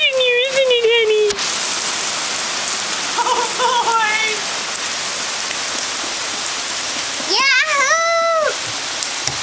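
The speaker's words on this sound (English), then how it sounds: "Oh, it's raining so hard." Heavy rain pours steadily on a surface, a dense unbroken hiss throughout, with a child's and an adult's voices exclaiming briefly over it at the start, middle and near the end.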